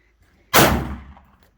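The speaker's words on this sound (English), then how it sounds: "now we're testing with hollow point to see how it works" A single sharp gunshot from a Sig Sauer P210A pistol firing a hollow point round, a loud close crack with a brief decaying echo, alone with no talking.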